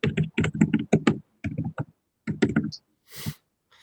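Clattering keystrokes on a computer keyboard come through an open microphone during an online class, arriving in quick bursts of close clicks separated by short pauses.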